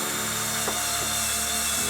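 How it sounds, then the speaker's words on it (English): A small drill bores buttonholes into a prop lightsaber hilt, giving a close, steady whirring whine with slight pitch shifts for about two seconds before stopping. "Now it is time to drill out the little buttonholes"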